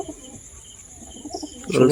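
A female pigeon gives soft low coos at close range, ending in a louder burst of cooing and rustling, with other birds faintly audible behind.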